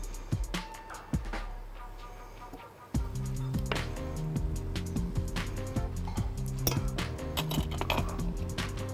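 Butter melting with a splash of olive oil in a frying pan, stirred so utensil clinks against the metal; scattered sharp clinks and scrapes over a steady low sizzle-like rumble, close and moderately loud.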